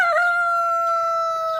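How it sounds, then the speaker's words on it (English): A rooster crows on a farm, one close, loud, sustained call with a clear tonal pitch that holds steady and tails off at the end. "Now this here rooster here,"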